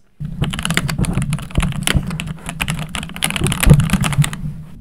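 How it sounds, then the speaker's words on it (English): Rapid, crisp clicking of keys on a new computer keyboard, close and loud, with irregular bursts of keystrokes and short pauses, heard alone without speech. "It has the most wonderful sounding keys."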